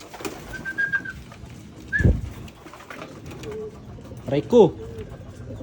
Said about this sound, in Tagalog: Ayan, dumating na yung galing ronda mga kalapatids.